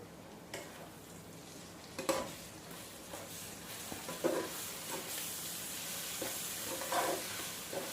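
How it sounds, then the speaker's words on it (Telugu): Spices being stirred into raw chicken for a chicken fry, soft scraping and mixing with a few sharper clinks of a spoon against the bowl over a faint hiss, quiet and close, with no talking. "ఇవన్నీ కలుపుదాం"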